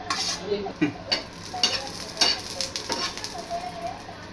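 Green chilies roast in a pan for a chili thecha, giving a soft continuous sizzle broken by intermittent stirring scrapes and clinks, close by with no talking.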